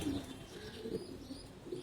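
Soft, low pigeon cooing repeats a few times over a murmuring background, fairly quiet and close by, with no talking.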